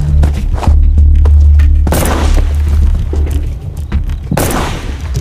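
Heavy booming gunshots ring out during sniper candidate training, fired right beside the trainees, two loud close blasts with long rumbling low-end decay over a deep sustained drone, no talking.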